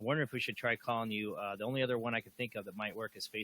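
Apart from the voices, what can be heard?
No everyday noise stands out behind the speech.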